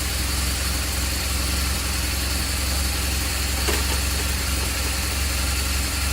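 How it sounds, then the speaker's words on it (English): The engine of a BMW R1200GS motorcycle idles steadily and close, giving a constant low rumble with no talk. "start the bike, pop it into gear"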